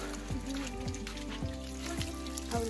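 Water runs steadily from a village tap, a continuous trickling stream with soft repeated plopping splashes, close by and moderately loud, with no talking.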